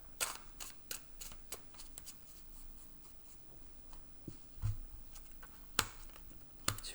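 Cards for The Banishing Game 2 board game are shuffled by hand, a series of sharp close riffles and slaps at irregular intervals against a quiet room.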